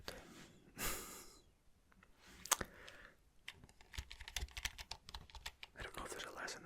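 Someone types on a computer keyboard in a quiet, sleep-clinic style ASMR setting: a close, crisp run of rapid, uneven key clicks that grows busier toward the end, with soft breathy sounds earlier.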